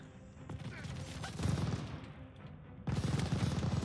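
Machine gun fire from a tower emplacement in the Call of Duty Vanguard campaign, with dense sustained bursts of automatic fire and scattered gunshots in a noisy battle soundscape.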